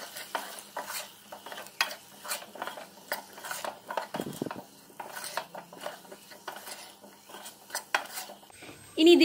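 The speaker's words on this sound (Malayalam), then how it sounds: "ഇതിന് നന്നായിട്ടൊന്ന് മിക്സ് ചെയ്ത് കൊടുക്കാം." Potato curry with turmeric and chili powder is stirred in a pan with a metal utensil, making steady scraping and clinking strokes over a soft sizzle, close and continuous for several seconds.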